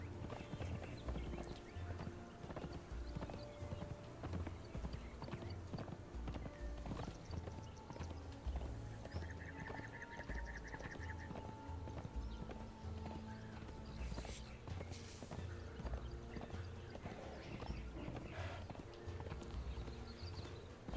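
Horse hooves clip-clopping in a video game, a steady loud rhythm of hoof strikes running throughout over layered game music and effects, with an occasional whinny.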